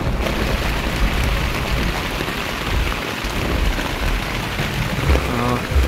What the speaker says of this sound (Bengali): প্রচণ্ড বৃষ্টি, বৃষ্টির ছিটা গায়ে পড়াতে ভিজে যাচ্ছে